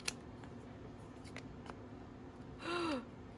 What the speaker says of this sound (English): I just realized I used my fabric scissors on paper